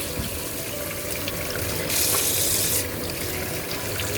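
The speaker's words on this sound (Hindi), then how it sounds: "अब ये देखें, हमारे यहाँ चिकन भी धुल गया है।" Tap water runs steadily while raw chicken is washed for karahi. It is a close, continuous rush that swells into a louder gush midway, with no talking.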